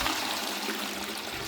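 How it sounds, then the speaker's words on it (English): A toilet is flushed during a check on a filling, blocked drain, giving a steady close rush of water that runs the whole moment with no voices. "let's give this toilet a flush and see if the water level is going to start to rise in the bowl"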